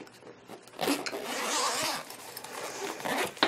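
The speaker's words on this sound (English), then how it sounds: "They come in this case, and it has a zipper." A zipper runs along a marker carrying case in a few rasping pulls, close and fairly loud, with short scrapes and handling noise between them.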